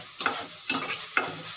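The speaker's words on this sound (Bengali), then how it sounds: "দেখুন সসটাকে আমি জাল করে নেব, আর এটা কিন্তু কষিয়ে নেওয়া হয়ে গেছে।" Sauce for a noodle lasagne being stirred as it fries in a kadai, three short scraping strokes over a steady close sizzle.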